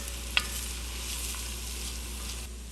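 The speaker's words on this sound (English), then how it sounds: "now we begin cooking the onion" Chopped onion softening in a pan for a Bulgarian moussaka gives a faint, steady sizzle throughout, with one brief click of a utensil early on.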